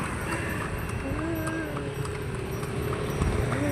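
A horse carrying a rider clip-clops steadily along an outdoor road, with rapid rhythmic hoofbeats amid broadband street noise.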